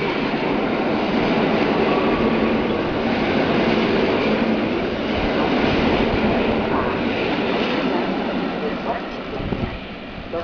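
Train rumbling through Warszawa Wschodnia station in Poland, a continuous loud rolling roar with faint rail clatter, under a station announcement voice.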